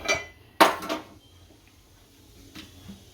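A metal pan clanks down sharply onto a gas stove with a ringing rattle, followed by a softer knock and a faint clink a moment later.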